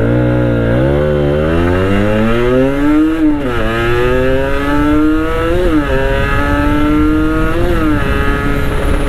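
A Kawasaki Ninja RR two-stroke motorcycle engine heard while riding, loud and close, revving up through rising pitch sweeps with brief drops at gear changes, sustained buzzy whine throughout.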